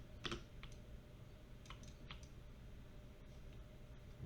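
Sparse, quiet computer keyboard key presses during 3D amulet modeling work, a handful of separate clicks spread over a few seconds above a low steady hum.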